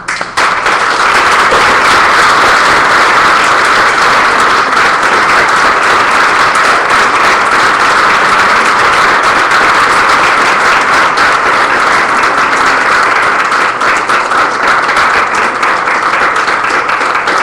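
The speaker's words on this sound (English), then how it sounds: "Please join me in a big round of applause for Jocelyn." A big round of applause fills a gala hall for Jocelyn, recipient of the 2013 3M Health Leadership Award, loud, dense and steady for the whole span with no talk over it.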